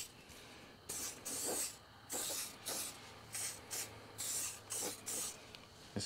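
Spray paint hisses onto metal clamps in a series of short bursts, about eight close, loud blasts with brief pauses between them and no talking.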